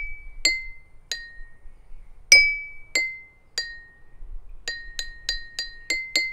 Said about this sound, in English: You have to fill a glass with water all the way, and this is going to be your lowest sound.